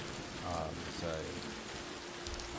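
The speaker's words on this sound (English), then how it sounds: "Like this rain here doesn't have to be positional." Steady, faint rainfall patters on surfaces in the Road 96 game world, a soft continuous wash with a few muffled tonal sounds briefly emerging beneath it.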